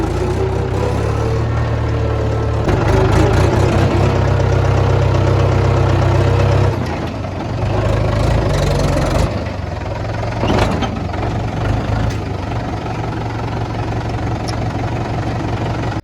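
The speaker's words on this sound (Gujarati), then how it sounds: "ટ્રેક્ટર ઓછું કરો, ટ્રેક્ટર દેખો." A farm tractor engine keeps running with a low steady chug that rises briefly louder for a few seconds, then settles back to a continuous idle rumble with occasional clunks and rattles.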